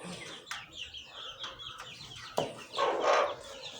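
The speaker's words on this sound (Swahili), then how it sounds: "Kuku wangu wako na nguvu jamani." Farm chickens given herbal treatment, clucking and calling in short bursts, with a louder squawk near the end over a steady background of other birds.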